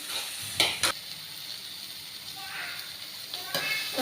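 Chopped tomato and green chilli stirred in a frying pan, a soft scraping and gentle sizzle with a couple of sharp clinks of the spoon against the pan, fairly quiet and close.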